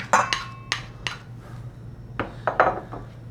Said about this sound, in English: first we're gonna mix the egg with a potato